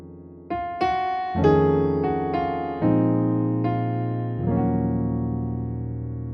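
Keyboard chords played in a slow sequence, each struck and left to ring, with a brief passing chord leading into the sustained final one, the 2 chord.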